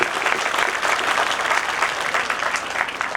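Audience applause at a Hindu religious discourse, a Shrimad Bhagavat Mahapuran katha in Vrindavan: a steady, dense wash of clapping from a large crowd that holds at an even level throughout, with no talk over it.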